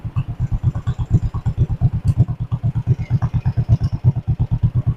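A John Deere 420W tractor engine, abandoned for over 35 years, runs just after starting with a loud, close, steady low chugging beat and rapid even firing pulses.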